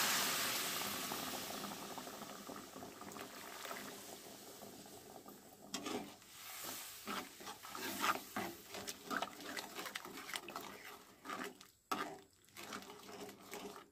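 Water heating in a pot on the stove for raw banana kofta curry, a steady hissing, bubbling wash that grows busier with crackling pops and clinks later on, close and fairly quiet, with no talking.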